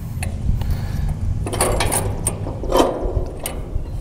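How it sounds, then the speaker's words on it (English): A 2030 stainless steel roller chain shifted by hand on the sprocket of an NC Series fertilizer spreader, giving scattered metallic clicks and rattles of links, close and moderately loud over a low background hum. "then we carefully move this stainless steel roller chain"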